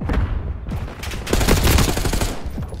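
Gunfire in a competitive Call of Duty match: rapid bursts of automatic weapon fire crackle in quick succession, fairly loud with brief gaps between volleys.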